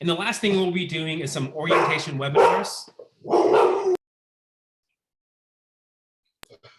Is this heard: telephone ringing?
no